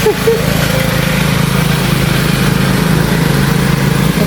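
A ride-on lawn mower engine drones steadily and loudly at close range throughout, with a constant mid-pitched motor hum and no pauses.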